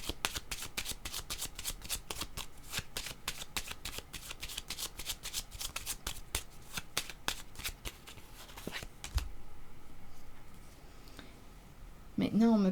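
A deck of playing cards is shuffled repeatedly in a fast, crisp riffling rhythm for most of the stretch, then stops; a brief low thump and soft handling noise follow, with a voice beginning right at the end.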